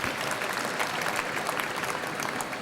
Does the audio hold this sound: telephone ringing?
no